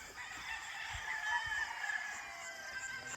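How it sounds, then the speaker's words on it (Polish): Roosters and chickens in Bohol, Philippines, crowing and clucking at a distance, faint and continuous, with no one talking. "Te kurczaki nawet stąd słychać."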